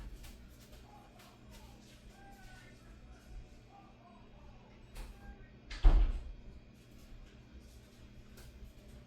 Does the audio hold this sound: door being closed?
yes